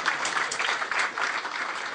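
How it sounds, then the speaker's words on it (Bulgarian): A crowd claps steadily at a 2011 football referees' awards ceremony, a dense, even round of applause heard from within the hall with no talk over it. "Моля за аплодисменти."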